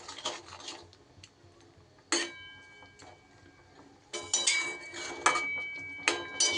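A spoon stirs orange chutney in a cooking pot, with sharp metallic clinks and scrapes coming in bursts and gaps, louder toward the end.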